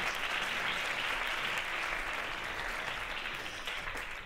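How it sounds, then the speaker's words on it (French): A comedy show audience breaks into steady, even applause, a thick continuous spread of clapping filling the room for about four seconds before easing off slightly at the close. "on applaudit monsieur"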